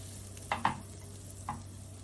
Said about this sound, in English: In the same pan, add butter and allow it to melt.